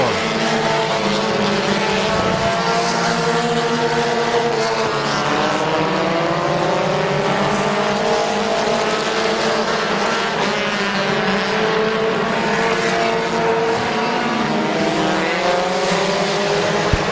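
Race cars roar around Midvale Speedway in lap traffic near the finish, engine notes rising and falling continuously as the pack passes, loud and steady throughout with no pauses.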